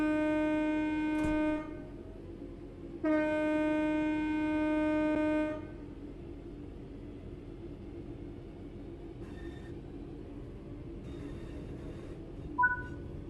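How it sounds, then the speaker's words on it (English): A train in the Train Sim World 4 simulator releases its brakes and starts moving. Two sustained horn-like tones sound over a low, steady rumble, followed by quieter running noise. "Pull the power brake handle toward you to release the brakes and apply power."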